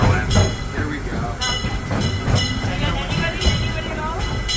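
The Disneyland Railroad train, pulled by the E.P. Ripley steam locomotive, rumbles steadily along its track with rhythmic clacking wheels close by, under a loud ride recording and background voices.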